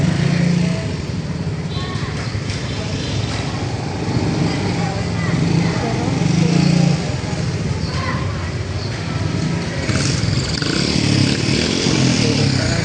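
A motorcycle ride near Nasugbu, with a constant engine drone and road rumble throughout and people talking over the noise.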